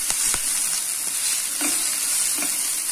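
Seeded tomato cubes frying over high flame in a pan with onion and capsicum, a constant bright sizzle with a few soft spatula stirs and scrapes, close and steady, with no talking.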